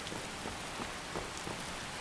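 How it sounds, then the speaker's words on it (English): Steady rain falls in the Wildlander video game, a dense, even hiss of drops with no pauses and no talking. "It's getting a bit rainy."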